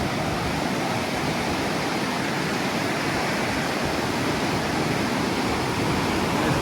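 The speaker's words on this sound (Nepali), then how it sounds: "लाङटाङ खोला तरिँदैछ है अहिले चाहिँ पुलमा" The Langtang river in Nepal rushes beneath a bridge on a trekking route. Its dense, steady roar of churning water is loud and continuous throughout, with no voices.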